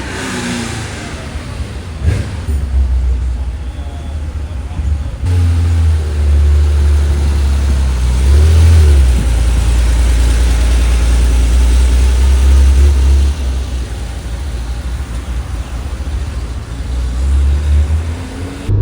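A Porsche 911 engine runs loud and close, a deep continuous rumble that swells repeatedly with revs and then settles back, with no voices.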